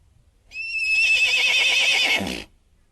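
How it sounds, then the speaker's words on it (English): A horse gives a single loud whinny lasting about two seconds, a high quavering call that slides downward and then stops abruptly, with no other sounds around it. "horse"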